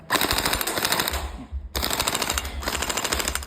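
Electric AKM47 gel blaster toy rifle powered by an 11.1 V battery firing in rapid full-auto bursts, a dense close mechanical rattle broken by a brief pause before the stream of shots resumes.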